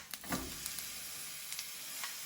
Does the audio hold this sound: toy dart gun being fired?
no